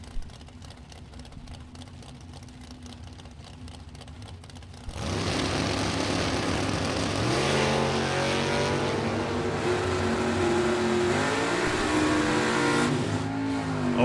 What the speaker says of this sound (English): Marty Thornton, 70 Mustang, 509 cubic inches. Up against Ray Smith, 69 Coronet 440.